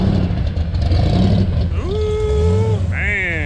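A truck engine rumbles at a car show, with a steady low idle under crowd noise and outdoor background and a couple of rising revs near the end. A voice briefly speaks over it.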